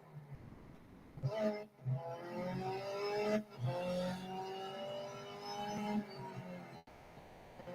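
Race car engines in the mobile racing game Real Racing 3, a steady loud revving drone that rises and shifts pitch through gear changes, with brief drops between, alone without talk.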